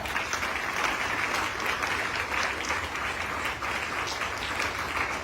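An audience at a business leaders' gathering gives loud, dense, continuous applause for the event's anchor and chairman, the clapping sustained evenly from start to finish.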